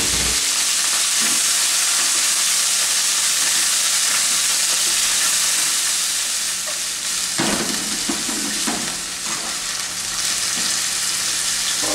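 Pork fries in smoking-hot oil with a loud, dense, continuous crackle and hiss, close up, with a few louder spatters and stirring bursts partway through and no talking.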